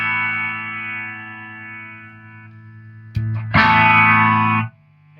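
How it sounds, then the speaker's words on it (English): An electric guitar plays through a Vox Defiant amp, first a sustained clean chord fading, then the distortion kicks in with a sharp attack and a loud, dense, buzzing chord that rings for about a second before cutting off. "And I can engage the distortion."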